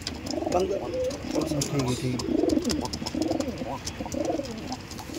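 Madras pigeons, a male and a female pair, coo repeatedly in soft, rolling phrases, close by, with a faint background hiss and a few light clicks.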